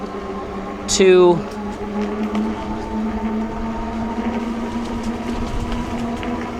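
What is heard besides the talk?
Cyrusher Rumble electric bike motor running on pedal assist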